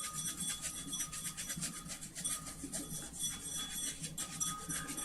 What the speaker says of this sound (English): take an old scruffy brush and really rub it to get all the excess off